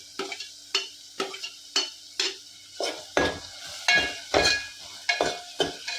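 Chopped onion with green chillies sautés in a pan, a spoon scraping and stirring in regular sharp strokes over a faint sizzle, close and alone.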